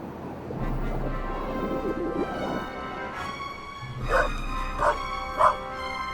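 Dog barks from The Raven video game, several sharp yips and bow-wows rising near the end over a steady game background hum and music.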